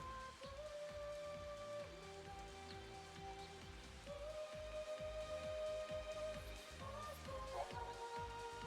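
Rain pours down in Final Fantasy XIII's Sunleth Waterscape, a steady soft hiss of falling drops that runs throughout under sustained background music tones, with no talking.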